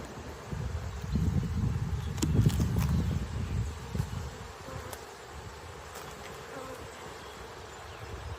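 Honeybees buzz around an open hive during an inspection, a dense, continuous drone that swells for a few seconds and then settles to a steadier, slightly fainter hum, with occasional soft clicks.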